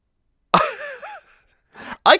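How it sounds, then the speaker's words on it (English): A single throaty cough bursts out close by, followed by a brief pause and then a couple of short, breathy coughing sounds. "cough still lingering"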